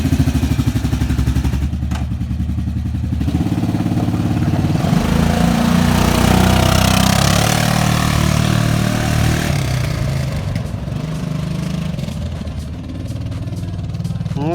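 V-twin motorcycle engine running just after a timing belt replacement, a loud steady idle with a deeper throaty stretch in the middle before settling back, close up with no talking.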